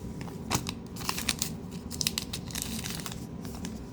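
Allen and Ginter trading card retail packs are torn open by hand, close crinkling foil wrappers with several sharp ripping bursts over a quiet background.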